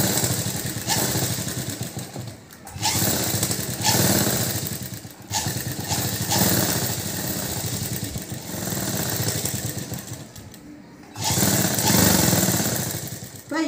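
Electric sewing machine stitching the back neck of a blouse, running in loud, close bursts of rapid mechanical whirring separated by brief pauses.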